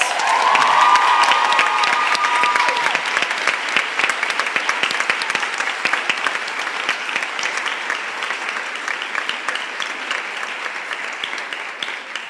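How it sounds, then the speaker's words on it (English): A school assembly crowd at a senior summer sports awards gathers into loud, dense applause with cheering, holding strong for several seconds and thinning slightly as it continues, with a brief voice at the start. "So let's give Ms. Dilley a round of applause"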